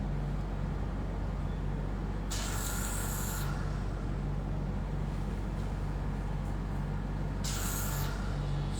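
Hydra facial machine with water-based suction running on a client's skin: a steady low motor hum throughout, broken by two brief bright hissing bursts of suction and spray.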